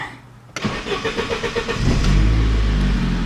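A Saab 9-3 car engine cranks after a quiet start with a rapid, rhythmic starter churn, then catches and settles into a steady, loud idle rumble close by.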